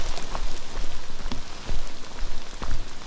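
Steady rain falling on a forest hiking trail, a constant close patter of drops striking surfaces with scattered heavier splats, loud and unbroken throughout.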